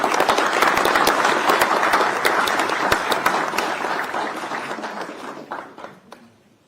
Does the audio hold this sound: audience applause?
yes